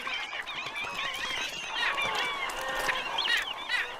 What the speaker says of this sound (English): Birds take notice too.